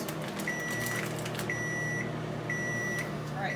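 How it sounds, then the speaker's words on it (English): A 2022-era kitchen microwave oven hums steadily while thawing frozen food, with a series of evenly spaced high beeps sounding in three separate bursts over the low running drone. "So I'm just going to thaw this out in the microwave"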